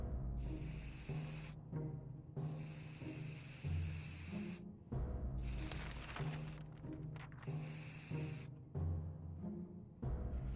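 Bursts of aerosol spray hiss at giant green cockroaches in the survival game 60 Seconds, four long loud sprays separated by short gaps over game background sound.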